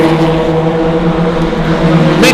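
Several race cars circulate in a pack during an EFS Track Attack Australia circuit race, producing a steady, loud, continuous engine drone with sustained harmonic whine and no pauses.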